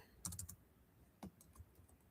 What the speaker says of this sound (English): So right now I'm typing in her email.